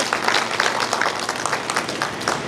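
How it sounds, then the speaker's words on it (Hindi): A crowd applauds steadily, many hands clapping together in a dense patter that carries on throughout. "जोरदार तालियों से स्वागत कीजिए सर"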